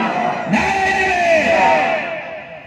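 A large crowd at an open-air religious gathering shouts a chant in unison, a sudden loud surge of many voices that swells, holds with a ringing, echoing quality, then fades away.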